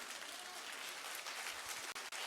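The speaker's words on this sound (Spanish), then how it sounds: "otros están aplaudiendo porque el de al lado aplaudió" Congregation at a pastor's sermon clapping: faint, distant, steady applause spread evenly across the moment, with two brief dips near the end and no talking.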